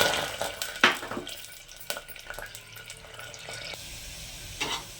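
Chopped onion goes into hot oil already holding clove and cinnamon stick for a vegetable curry, giving a brief sizzling burst and scattered clatter up close, then a quieter frying hiss with a few more clinks.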